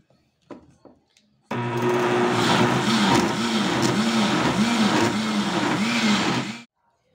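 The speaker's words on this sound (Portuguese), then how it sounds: "Depois que eu bati aqui no liquidificador" A blender whirs loudly and steadily for about five seconds blending corn and milk, its motor pitch wobbling rhythmically as contents churn, after a few brief clicks and knocks.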